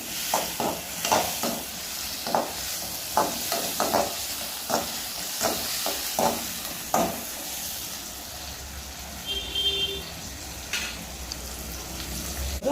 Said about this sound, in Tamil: உப்பு தேவையான அளவுக்கு அதையும் நல்லா போட்டு கிண்டிக்கோங்க.